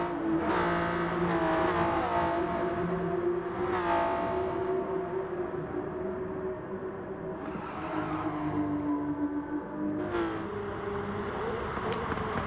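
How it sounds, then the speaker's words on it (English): A Supra race car engine in a street car race, a loud sustained engine note droning and rising repeatedly, with cars revving and passing nearby throughout. "You can hear the same exact engine note going over and over again"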